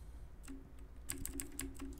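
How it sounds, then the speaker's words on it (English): Arrow keys tapped on a computer keyboard while scrolling in a terminal: a few scattered clicks, then a quicker run of close, crisp keystrokes. "we can use our arrow keys to scroll up and down"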